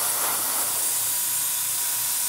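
Paint spray hisses in a loose, steady stream over beige groundwork on a model layout, a continuous airy rush with no voices.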